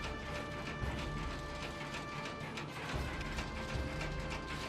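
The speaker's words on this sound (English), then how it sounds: "Thread the rod out to increase the number of net layers." On a Krone Bellima 130D baler, someone turns the threaded net wrap rod, making a continuous fast ratcheting, clicking mechanical sound, close and steady throughout, with no talking.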